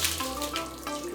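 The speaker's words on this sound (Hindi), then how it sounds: "तो अब बस हमने इसे पानी से ना वॉश कर देना है बस, ताकि सारा निकल जाए इसकी बॉडी से।" Running water rinsing a dog during a bath: a steady splashing stream of tap water, continuous and fairly loud, with some faint tonal hum beneath.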